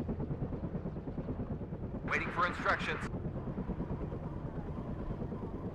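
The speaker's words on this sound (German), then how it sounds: "Oh nein, nicht schon wieder so ein AA-Hubschrauber." In the WARNO wargame, an anti-air attack helicopter's rotor and engine rumble drones steadily throughout, with a short sharp burst of effects partway through and a game voice line spoken over it.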